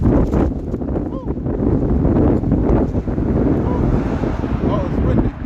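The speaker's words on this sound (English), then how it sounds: "Oh, it's windy." Strong wind gusting outdoors at a camp, roaring steadily across the whole stretch as loud broadband buffeting on the microphone, with a person talking over it.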